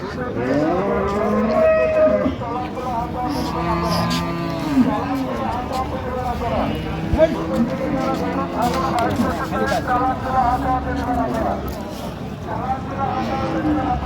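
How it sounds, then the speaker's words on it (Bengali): Dairy cow and calf at a busy livestock market, with repeated deep lowing moos running throughout under steady crowd chatter and nearby voices. "গাভী বাছুর।"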